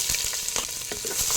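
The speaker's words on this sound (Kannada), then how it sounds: "ಇವಾಗ ಇದನ್ನು ಸ್ವಲ್ಪ ಫ್ರೈ ಮಾಡ್ತೇನೆ." Cut green chillies fry in a mix of ghee and coconut oil, giving a dense, continuous close sizzle with soft crackling pops throughout.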